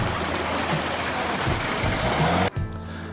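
Flood water gushing over a car bonnet while driving through deep water, a loud steady rushing and splashing torrent that cuts off abruptly near the end, leaving a quieter wash.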